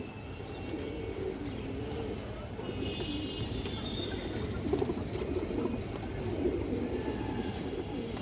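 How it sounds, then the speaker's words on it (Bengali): Pigeons of old breeds coo in soft, repeated, low throaty calls, with a few faint chirps over a steady background and a hint of voices. "অসাধারণ একটা কবুতর"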